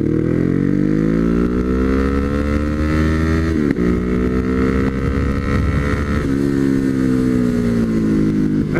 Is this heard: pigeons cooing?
no